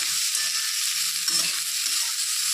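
Bitter gourd slices fry in hot oil with a little turmeric, giving a steady close sizzle and crackle with soft stirring scrapes underneath, and nobody speaking.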